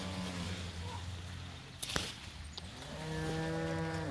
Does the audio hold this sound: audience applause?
no